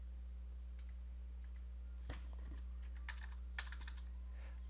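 Typing on a computer keyboard while entering a number into a spreadsheet, a few faint, sparse key clicks over a constant low electrical hum.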